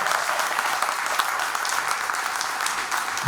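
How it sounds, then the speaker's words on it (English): An audience breaks into steady, dense applause at a question-and-answer session, many hands clapping together at an even volume throughout. "With a big round of applause."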